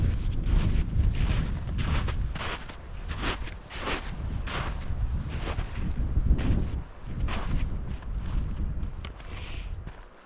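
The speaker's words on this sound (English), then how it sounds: "we've kind of gone up high, so like the wind's whipping onto us" Strong wind buffets a high, exposed camping spot in a bison range, a loud, continuous rushing roar with gusty swells and thumping bursts against the microphone. No voices are heard.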